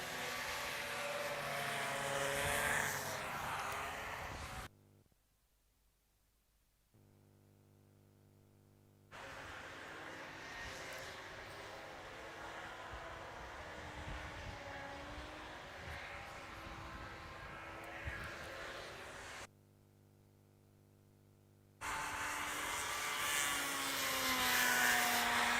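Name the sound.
four-stroke racing hovercraft engine passing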